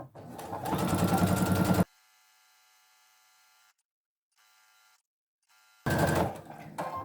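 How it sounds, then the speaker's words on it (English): Sewing machine stitching an apron string for a peg apron, a loud rapid motor whir running steadily for about two seconds. After that comes a long quiet pause with only faint hum, then the machine starts again. "continue on and sew the rest of the apron string"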